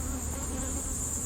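Honey bees swarm around an open hive, a dense continuous buzzing drone close to the listener with no pauses and no voices.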